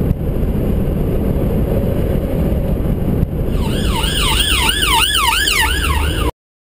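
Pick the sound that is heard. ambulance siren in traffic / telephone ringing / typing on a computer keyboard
ambulance siren in traffic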